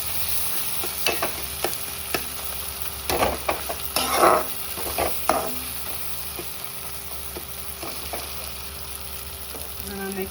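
Egg fried rice is stirred and fried in a pan, giving a steady sizzle broken by scraping and clattering strokes of the spatula, the bursts clustered around the middle.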